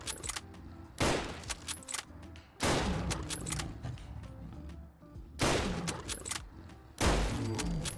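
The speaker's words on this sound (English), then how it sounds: "5 shots in and halfway through the Deathclaw's health." Four loud, widely spaced rifle shots from a WW2 rifle modded to .303 in Fallout 4, each a sharp crack with a decaying tail, against quiet game ambience.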